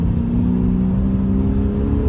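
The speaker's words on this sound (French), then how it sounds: "Le passage de rapport, il est très beau chez Lexus." A Lexus car's engine holds a steady, smooth whirring note under acceleration through a gear change on a city street, loud and close from inside the cabin.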